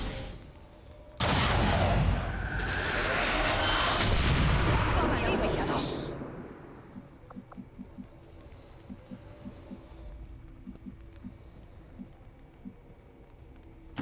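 A loud burst of weapon fire from a soldier's rapid fire shot in XCOM 2: War of the Chosen dominates roughly five seconds. It then drops to quieter ambience with small clicks and faint speech underneath.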